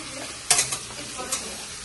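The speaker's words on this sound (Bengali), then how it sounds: "বাবা রান্না করছো? চিকেন রান্না হচ্ছে।" Chicken cooking in a pan at home, a steady sizzle broken by a few sharp scrapes and knocks of a stirring spoon against the pan, close with no talking.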